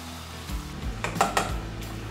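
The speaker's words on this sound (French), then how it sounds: "Là j'en profite pour pocher mes pommes copeaux qui pourraient être des chips aussi" Potato chip slices poaching in oil heated to about 140 degrees over a gas burner, a steady soft sizzle with a few clinks and stirring sounds in the middle.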